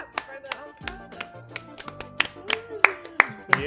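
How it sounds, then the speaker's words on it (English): Hands clap in a loose, uneven rhythm of sharp taps over soft background tones, with voices talking around them. "we didn't clap for the present"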